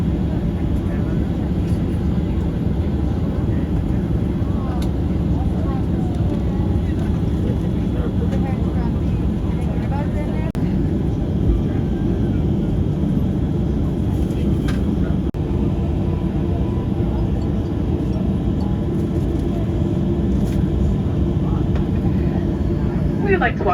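Cabin of an American Airlines Boeing 737 taxiing to the gate at Oranjestad, Aruba after landing, with a steady, loud low engine and airframe rumble throughout and an announcement voice over it.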